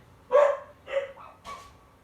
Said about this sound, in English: there's a dog barking outside and my dog just heard it